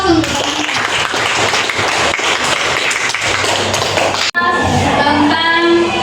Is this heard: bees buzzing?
no